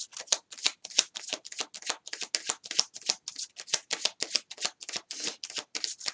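Tarot cards shuffled repeatedly during an air sign reading, a rapid run of crisp riffling flicks in quick bursts, close and clear, with no talking.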